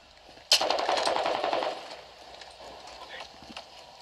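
Gunfire in Call of Duty Modern Warfare 2 multiplayer: a sharp onset followed by a dense clattering burst of shots lasting about a second, then quieter scattered game sounds with faint talk.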